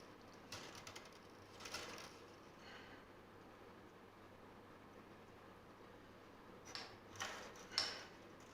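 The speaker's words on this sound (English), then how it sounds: "I'm literally just turning the tuner to get the string taut" A tuner on a handmade electric bass guitar is turned to tighten a string, giving faint, close clicking and ratcheting bursts in a few short clusters separated by quiet pauses.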